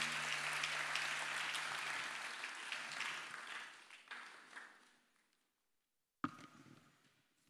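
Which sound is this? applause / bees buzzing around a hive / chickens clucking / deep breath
applause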